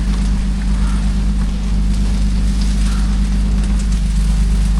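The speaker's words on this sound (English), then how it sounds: "it is raining like a motherfucker" Heavy rain at a Burning Man campsite during a storm, a loud steady wash of rain with a strong low rumble and gusty noise throughout, no voices.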